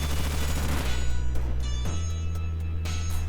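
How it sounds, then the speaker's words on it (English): Bullet Seed attack in Pokémon Brilliant Diamond and Shining Pearl, a loud burst of rapid rattling impacts over a steady droning game soundtrack, followed by a few sparser hits. "We go for the bullet seed here."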